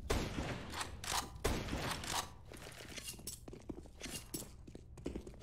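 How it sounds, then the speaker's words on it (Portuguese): Gunfire from the video game Counter-Strike on the Mirage map, during an ESL Pro League grand final match between FaZe and ENCE: sharp bursts of shots and rapid rattles at close range, with two heavier volleys early and scattered clicks and steps after. "o Rain levou ali um disparo nas canelas"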